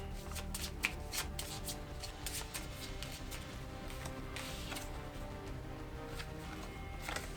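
A deck of cards for a Marvel Legendary deck-building game is shuffled, giving a steady riffle and flutter of cards for several seconds over a faint room background, with no talking.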